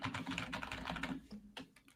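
A clicky computer keyboard clatters under quick, busy typing. The keystrokes sound close and crisp, packed together at first and then thinning to a few scattered presses, with no one speaking.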